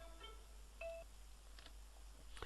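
A telephone chimes with a few short electronic tones and beeps at an electronics workbench during transistor repair work, quiet and brief against a low background hum.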